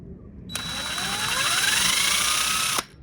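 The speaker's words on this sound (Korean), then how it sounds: "구멍을 뚫을 때는 요 비트를 쓰면 편하더라고요" Power drill with a bit boring a hole during the build of a homemade trash-burning bin. A close, loud, steady whine starts suddenly, rises slowly in pitch for over two seconds, then cuts off abruptly. No talking.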